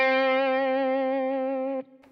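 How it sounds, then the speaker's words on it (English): Electric guitar note sustained with a steady vibrato wobble, clean and alone for nearly two seconds before cutting off abruptly. "you might have heard me use what's called Vibrato"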